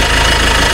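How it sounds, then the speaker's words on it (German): A truck engine runs steadily with a coarse, tractor-like rumble, loud and close, with a constant low drone and no voices. "Jetzt geht es mit dem LKW weiter."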